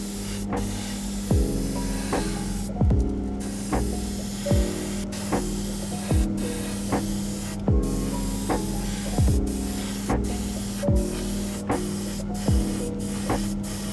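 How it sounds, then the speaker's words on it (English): An aerosol spray can hisses steadily at close range while painting a 1/24 scale Nissan 240Z model, with repeated short rhythmic pulses throughout. "After spraying the colour, I noticed a few paint drips on door"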